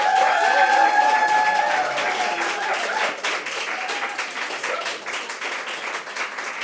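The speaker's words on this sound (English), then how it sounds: "For those of you that think the against team won you over, please clap now." Clapping from a debate audience at Nature & Climate House, a steady wash of many hands with tonal traces of voices or feedback early on, fairly loud and continuous throughout.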